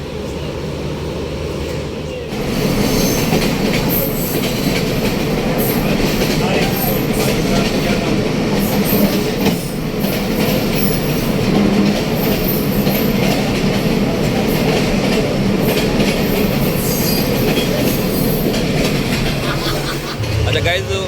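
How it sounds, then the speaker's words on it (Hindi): Train cars rolling along the rails as a saloon car is attached at the back, a loud steady rumble with rhythmic clatter that starts after a brief quieter moment and continues throughout, with voices faintly in the background. "सैलून जो है वो अब ट्रेन के बैक साइड पे अटैच हो रही है"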